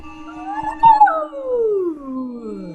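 A short, little creature-like howl, loud and close, rising then sliding down in pitch over a couple of seconds, with a small thump partway through.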